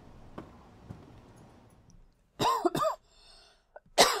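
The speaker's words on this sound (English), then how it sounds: "Silly cough." A person coughs twice in quick succession, then once more after a short pause, over faint, quiet background noise.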